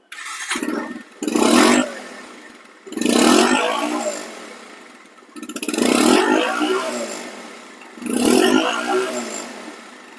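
A motorcycle in showroom condition revs in four or five loud, close bursts, each rising and falling with brief idle gaps between, the engine note rough and throaty.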